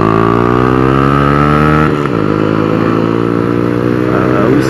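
Motorcycle fitted with an aftermarket exhaust, its engine held at a loud steady idle with a dip and rev change around two seconds, then running on strongly.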